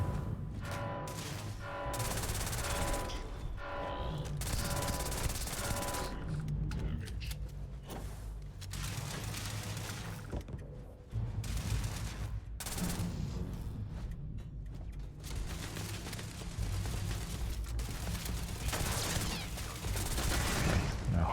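Turret gunfire in the Starfield video game during the SysDef questline, with dense, rapid bursts of shots and booms that continue steadily and loudly through the whole stretch.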